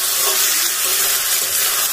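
Water rushes into a hot cooking pan with greens and tomato in it, making a loud, continuous hissing splash up close that lasts a couple of seconds.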